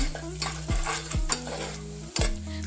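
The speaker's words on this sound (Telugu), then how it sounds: "వన్ స్పూన్ ధనియా పౌడర్ అయితే యాడ్ చేసుకుందాము కలుపుకుందాము" Spatula scraping and stirring onions frying with turmeric and coriander powder in a pan for stuffed brinjal curry, a steady sizzle broken by several sharp metallic clanks, close and alone.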